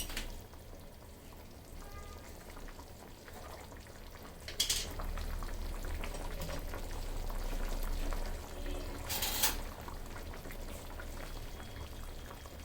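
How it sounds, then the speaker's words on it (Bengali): Ghee goes into a simmering wedding-style vegetable curry cooked in butter oil, which bubbles and sizzles steadily up close, with two brief brighter splashes along the way and no talk. "এখন সামান্য ঘি দিয়ে নামিয়ে ফেলবো"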